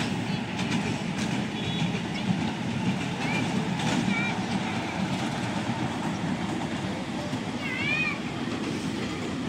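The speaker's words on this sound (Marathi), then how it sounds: "ट्रेन सुटली आता ही." The Wonder Park amusement park train in Nerul, Navi Mumbai, pulls away with a steady clickety-clack rumble of wheels on track and faint squeals, while people chatter in the background.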